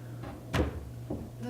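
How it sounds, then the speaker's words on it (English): A studio door is moved once, giving a single low thud with a brief scrape partway through, followed by a softer knock, close by against a quiet room hum with no talking. "Hey, check this door out."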